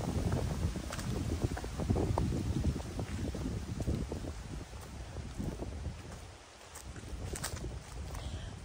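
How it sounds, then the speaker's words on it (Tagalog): Wind gusting steadily across an open hillside property in Tanay, Rizal, a broad rushing roar with buffeting on the microphone that dips briefly before picking back up. "Sarap na hangin."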